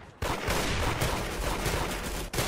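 Sustained, dense gunfire from the Arsenal shooter game, continuous loud overlapping shots with no break for about two seconds before a brief dip and more firing.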